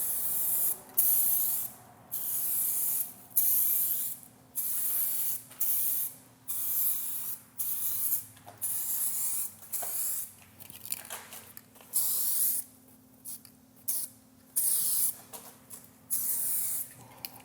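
Short bursts of aerosol primer spray misted lightly onto faded black plastic trim, about a dozen separate hisses in a steady on-off rhythm, close and clear with no talking.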